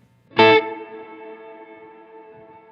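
A single chord struck through a Strymon BigSky MX reverb pedal with its tone knob turned darker, a loud attack followed by a long, smooth, shimmering tail that fades slowly, with no voice over it.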